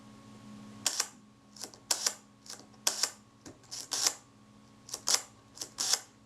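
A 35mm film camera shutter under restoration fires repeatedly, about a dozen sharp mechanical clicks at irregular intervals, close up against a quiet background hum; the shutter release is sticking.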